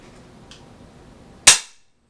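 A single sharp, loud shot from an FX AR-17 blaster cracks close by and decays quickly, preceded by a faint click and low background noise.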